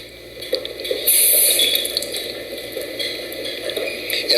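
Tap water runs steadily from a faucet into a kitchen sink to flush a DIY water filter, a continuous close rushing hiss with no talk over it.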